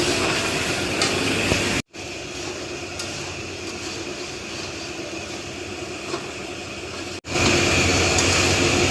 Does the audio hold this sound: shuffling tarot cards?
no